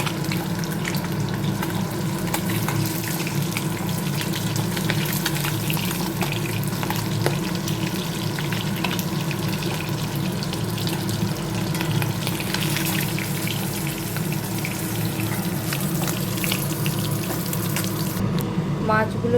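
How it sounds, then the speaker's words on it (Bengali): Katla fish pieces fry lightly in hot oil in a home kitchen pan, giving a continuous steady sizzle that runs unbroken and fairly loud, close up. "মাছগুলো খুব লাল করে ভাজবো না, হালকা ভাজা হয়ে এসছে।"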